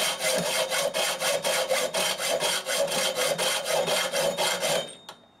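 A hand saw cuts steadily through wood for a take-down bow, its rapid, even back-and-forth strokes close and loud, then stopping abruptly with a faint clack at the end.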